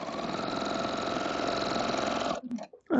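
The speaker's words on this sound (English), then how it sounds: "I'm sewing over the previous threads" A sewing machine stitching a potato chip block quilt over earlier threads, a close, even, rapid mechanical whir for over two seconds before stopping, followed by a few soft handling knocks.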